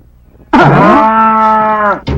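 A buffalo gives one loud, close moo, a drawn-out low bellow of about one and a half seconds, followed by the start of a second call.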